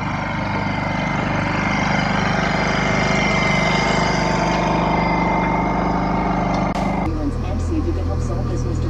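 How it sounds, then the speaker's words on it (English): A generator runs aboard a small C-Dory cruising boat, a loud, continuous mechanical drone whose tone shifts and drops near the end. "Got our generator running"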